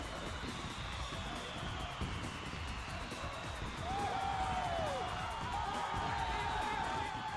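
Stadium crowd cheering the cup winners during the lap of honour in a FIFA 2001 cutscene, a steady distant roar that swells slightly midway, with a whistle-like tone rising over it.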